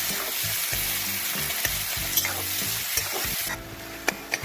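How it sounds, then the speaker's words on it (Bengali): Sliced onions sizzle in hot oil in a pan with cinnamon, while a spatula stirs them in repeated scraping strokes, close and steady, with no voices. "পেঁয়াজটা আমি ভালো করে ভেজে নিচ্ছি।"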